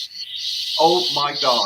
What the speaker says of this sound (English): those Australian insects are loud as hell.